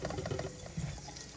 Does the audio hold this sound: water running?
yes